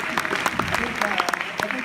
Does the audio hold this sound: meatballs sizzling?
no